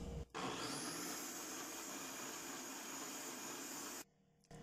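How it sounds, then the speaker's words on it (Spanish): A blender whirs loudly and steadily as it purées tomatoes, onion and garlic in their cooking liquid, running for about four seconds before cutting off abruptly. "A licuar."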